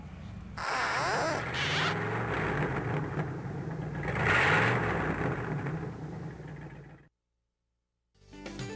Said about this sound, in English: he's cranking up the fire truck now